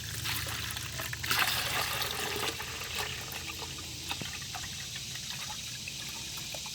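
Sugar syrup pours into an open bee feeder in a steady, moderately loud liquid gush and trickle that continues with minor splashes, with no talking.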